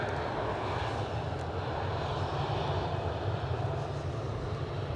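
An EasyJet airliner pushing back on the stand at Newcastle Airport on a snowy, windy day makes a steady, continuous jet engine roar with a low rumble. It holds at an even level throughout and no one talks.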